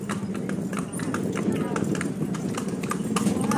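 Hooves of a horse pulling a kalesa carriage clip-clop steadily on pavement, a brisk even rhythm of close taps running under continuous family chatter and road noise.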